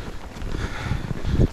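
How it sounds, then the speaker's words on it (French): Gusty wind blows through a snowy forest after about 10 cm of fresh snowfall, giving a brief, loud buffeting rumble with low gusts against the microphone and no talking. "Il y a considérablement du vent"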